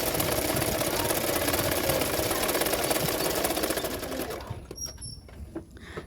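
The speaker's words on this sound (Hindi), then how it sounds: "हाफ इंच मार्जिन रखते हुए सिलाई कर रही हूँ" A sewing machine stitches a katori blouse with a half-inch margin, a fast, steady rattling whir running continuously close up, then stopping abruptly near the end and leaving a few faint clicks.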